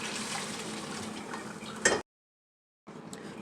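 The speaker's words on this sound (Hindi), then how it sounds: "अब मैं इसमें ये गर्म पानी डाल दूँगी।" Hot water poured from a vessel into a pot of sautéed spinach and lentil dal, a steady close gushing splash that ends with a brief clatter before a short silence, then faint kitchen sound resumes.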